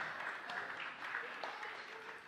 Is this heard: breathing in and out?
no